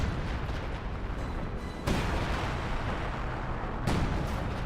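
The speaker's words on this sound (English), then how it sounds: "No, it's an actual barrage. I think that's major artillery." Artillery barrage in the World War II strategy game Company of Heroes 2: a continuous loud roar of distant shelling with two sharp, heavy blasts punching through about two seconds apart, no voices.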